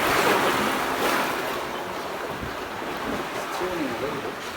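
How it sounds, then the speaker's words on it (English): High Atlantic swells rush and slosh against a sailing yacht mid-crossing, a continuous churning roar mixed with wind buffeting the microphone, fairly close and steady throughout. "Waves are quite high."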